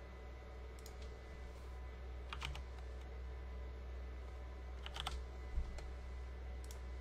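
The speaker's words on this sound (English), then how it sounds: "type in that code right here" A code is typed on a computer keyboard: faint, close key clicks in small scattered bursts over a steady low background hum, with no talking.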